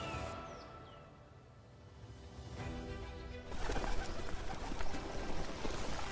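A dove-like African bird, a species ranging across sub-Saharan savannas and farmland, gives soft cooing calls against steady background noise that grows louder partway through.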